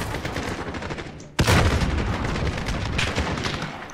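A grenade explodes in the video game Call of Duty Modern Warfare: a sudden loud boom midway that cuts in over ongoing gunfire and battle noise, then a rumbling tail as the shooting continues.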